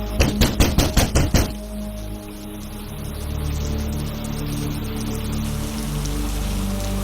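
Steady rain falls after a quick run of about seven sharp knocks on a house door at the start, the downpour then continuing as a broad, even wash with a low rumble underneath.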